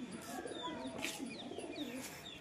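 Several pigeons coo in low, overlapping murmurs around a loft where flying pigeons are being let down to land, with faint chirps scattered above and the cooing running steadily throughout.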